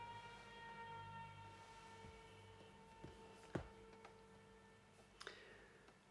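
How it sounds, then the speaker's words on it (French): A horn sounds faintly in the background as a sustained, steady tone lasting several seconds, with a few scattered clicks near the end. "il y avait un klaxon, c'est pas de ma faute."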